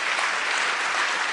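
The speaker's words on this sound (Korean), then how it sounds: "박수로 한번 해주시기 바랍니다" Steady, dense applause from a church gathering audience in Korea, a brief uniform wash of many hands clapping together with no pause.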